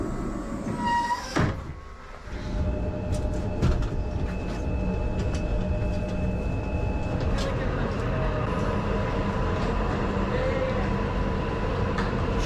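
Passenger train running between Ljubljana and Zagreb, heard from inside the carriage as a steady rumble with faint tonal hums. A few clunks come early, then a sustained, even noise holds to the end.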